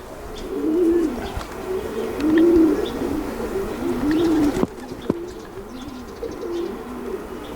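A young pigeon coos in a slow repeated rhythm, three or four low rolling calls close by, followed by a sharp knock and quieter rustling.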